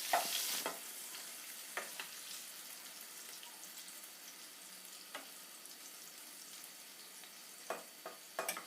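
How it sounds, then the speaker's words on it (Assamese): Bitter gourd fries in a pan with turmeric until golden brown, giving a faint, steady sizzle broken by a few sharp stirring scrapes near the start and end. "অলপ এইটো গোল্ডেন ব্ৰাউন হোৱালৈকে আমি ফ্ৰাই কৰি থাকিম"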